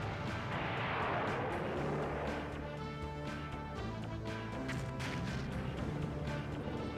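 Guided missiles launched at a Goliath tank in the N64 game BattleTanx: a loud, broad blast rumbles at the start, then gives way to steady tonal game sounds.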